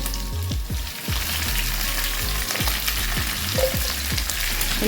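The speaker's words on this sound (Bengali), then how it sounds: "বেশ একটু নাড়াচাড়া করে নেব, তরকারিগুলোকে একটু সাঁতলিয়ে নেব ভালো করে" Pumpkin pieces and vegetable stems sautéing in hot oil for a Bengali Malabar spinach chorchori, a steady close sizzle broken by repeated low knocks of the spatula stirring the pan, with no voices.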